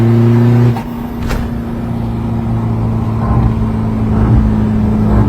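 Remapped Isuzu D-Max 1.9 diesel engine held at a steady, loud idle-to-raised rev hum close by, dropping slightly after a brief shift early on, with no talking.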